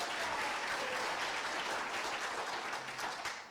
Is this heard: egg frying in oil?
no